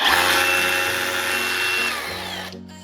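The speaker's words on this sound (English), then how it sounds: "This is the best SDS drill DeWalt do" A DeWalt 18 volt SDS drill whirs steadily at high speed, loud and close, with a constant motor whine that drops in pitch near the end as it winds down.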